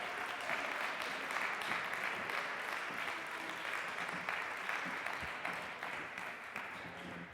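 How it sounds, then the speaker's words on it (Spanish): Sustained audience applause at the Gala Crear 2021 youth event for the singer, a dense, steady wash of many hands clapping that stays loud and even throughout, with no voices over it. "Fuerte ese aplauso"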